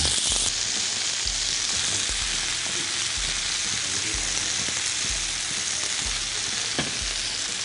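Pork-wrapped asparagus sizzles in a simmered sauce in a pan while being flipped, a dense, even frying hiss with faint clicks and occasional soft utensil taps.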